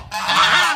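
A goose honks once, a loud, close, harsh call lasting under a second, heard in a winter mountain yard beside a vegetable garden.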